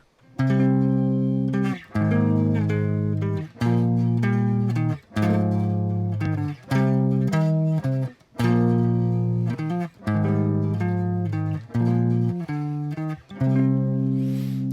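An electric guitar melody played with chords in an instrumental rock style, with punchy rhythmic chord hits repeating steadily throughout. The playing is loud and close, with no talking.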